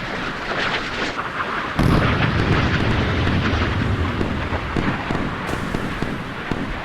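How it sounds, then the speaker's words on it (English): Heavy naval battle in a modern warship game, with Soviet Slava-class cruisers firing missiles and guns: a continuous rumbling roar of gunnery and launches that swells sharply midway and stays loud, with no voices. "Loads of gunnery going out. Loads of missiles going out, but just not enough defense."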